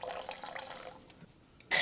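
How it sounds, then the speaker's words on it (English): A big splash of vanilla poured into cups of cocoa powder and brown sugar for cowboy coffee, a short liquid trickle lasting about a second, then a brief sharp splash after a pause. "A big splash of vanilla."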